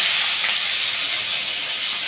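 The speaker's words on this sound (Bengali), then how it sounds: "এইবার আমি এই পেঁয়াজ কুচিটা এই তেলের মধ্যে আমি দিয়ে দিচ্ছি" Chopped onion goes into hot oil left from frying pomfret and sizzles with a loud, even hiss that holds steady for the full two seconds, with no voices.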